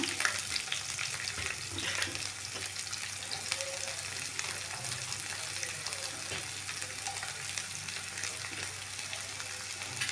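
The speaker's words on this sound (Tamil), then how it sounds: "க்யூப் க்யூபாக கட் பண்ணி வச்சுக்கிறதா இந்த ஆனியன் அப்படியே ஆட் பண்ணிக்கலாம்" Cubed onions frying in oil for an ice apple chicken gravy, a steady dense sizzle that runs unbroken and close throughout with occasional soft stirring clicks.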